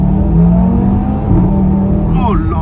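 Audi RS3 tuned to 510 hp revving hard, a loud close engine roar with a rising and falling pitch, while someone speaks excitedly over it toward the end.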